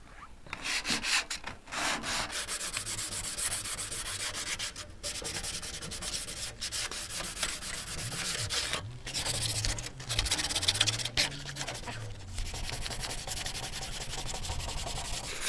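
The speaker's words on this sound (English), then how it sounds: "you just want to rough up this surface with the sandpaper" Close hand sanding of painted car body panels with 180 grit sandpaper: continuous rough rubbing strokes with steady rhythmic scuffing and a few brief pauses, no voices.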